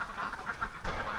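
Ducks in a pen quack in a run of short, nasal calls, faint and somewhat distant, one after another in quick succession.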